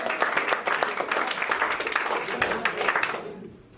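Applause from a comedy show audience for the performers, dense clapping and cheering that holds steady then fades out quickly at the end.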